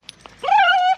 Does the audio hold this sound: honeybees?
no